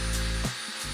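A drill spins a turned wood hanger against beeswaxed leather edges to burnish them, giving a loud steady whirring hum that winds down partway, then picks back up.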